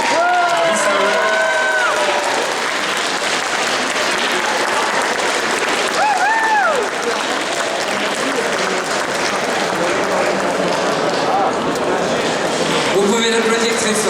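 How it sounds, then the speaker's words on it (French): A large audience applauds loudly and steadily for a cosplay award winner at a convention prize ceremony, a dense continuous clapping wash with scattered whoops and cheers, while a voice talks over a microphone and brief musical tones sound in between. "Vous pouvez l'applaudir très fort"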